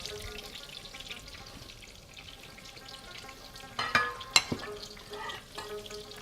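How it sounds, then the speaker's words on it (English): Oil sizzles and crackles steadily as jalapeños deep fry, with a few louder pops and utensil clinks partway through. "we deep fried these jalapenos"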